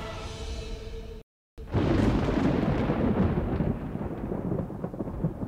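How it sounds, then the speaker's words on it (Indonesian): Heavy rain pours steadily on the roof as thunder rolls in a storm, with a loud broad roar that swells after a brief silent break and keeps rumbling with no voices. "hujan deras. Aku rasa akan ada badai."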